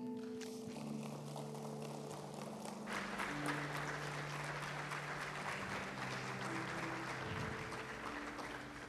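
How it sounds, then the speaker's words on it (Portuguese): A church congregation applauds during a sermon, a steady broad wash of clapping held at even strength throughout, with a sustained musical tone underneath. "Aplauda Jesus."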